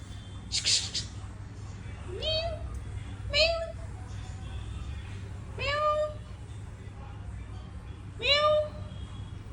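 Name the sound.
cat meowing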